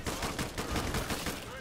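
Machine gun fire in the video game Killing Floor 2: a rapid, continuous burst of loud shots in a steady rattling rhythm, with voices mixed in.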